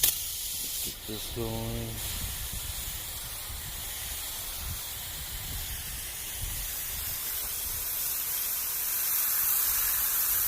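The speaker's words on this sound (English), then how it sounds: "Okay, now we're gonna thoroughly rinse this off." Steady, close water spray rinses a K&N air filter from a Dodge Charger, a continuous hiss running through the whole stretch after a brief spoken line at the start.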